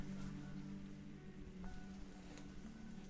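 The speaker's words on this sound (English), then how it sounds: "It's raining." Rain falls steadily outside during a quiet study session, a soft, faint, even patter of drops on a surface with a low background hum and no talking.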